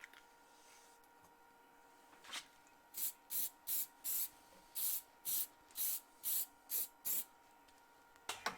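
A spray can applies a second coat of finish to a wood blank mounted on a lathe. About ten short, sharp hissing sprays come in a quick, even rhythm, close and clear, with light clicks before and after.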